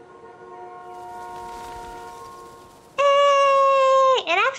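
A vehicle horn in the game Life is Strange: Before the Storm sounds a loud, steady multi-tone honk that starts abruptly and then sags in pitch at the end, over a quieter ambient hum.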